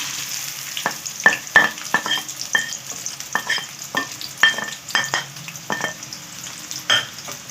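Onions frying gently in a spoonful of hot oil, with a constant soft sizzle broken by frequent sharp clinks and scrapes of a metal spoon stirring in the pot.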